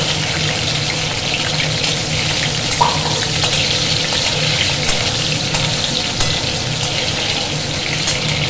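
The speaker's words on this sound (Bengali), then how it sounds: "এরপর দেবো আলুগুলোও ভেজে নেব।" A steady, loud sizzle of potatoes frying in hot oil, with a few faint clinks from the pan and no voices.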